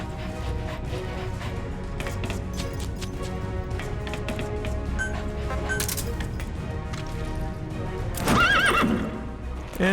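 D-Horse in Metal Gear Solid V: The Phantom Pain gallops with steady, rhythmic hoofbeats throughout, then lets out a loud, close whinny near the end.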